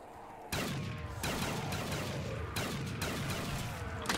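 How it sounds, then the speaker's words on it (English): Shotgun blasts in a zombie-survival shooter set in the White House, several loud booming shots at uneven intervals, each with a rough decaying tail over constant low game noise. "This shotgun's actually doing work."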